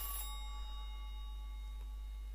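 A telephone rings in Silent Hill 3: one bright electronic ring burst at the start, then a faint tone that lingers over a low steady hum.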